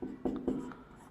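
Chalk or marker strokes on a classroom board during an electrical theory lesson: two or three short scratchy strokes, close and fairly quiet, with no voice over them.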